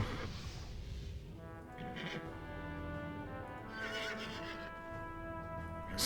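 Game audio of an old, worn-out horse whinnying loudly in a long harmonic neigh, with clip-clop hoofbeats underneath, sounding close throughout.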